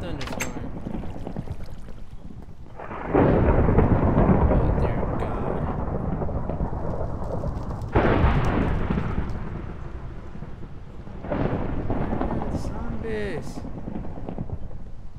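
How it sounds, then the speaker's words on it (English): A Minecraft thunderstorm brings heavy, rolling thunder claps, three loud surges that fade slowly, over a steady hiss of rain, with someone talking at times. "And there's a thunderstorm."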